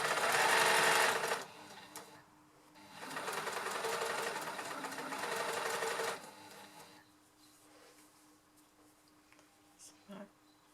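Knitting machine carriage running back and forth while knitting a sleeve, two loud rattling whirring passes separated by quieter gaps, then softer mechanical clicks near the end.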